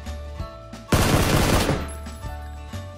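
Automatic gunfire in a PlayerUnknown's Battlegrounds console gunfight, a loud, dense burst of rapid shots lasting about a second, with a few scattered single shots before it and a fading echo afterward.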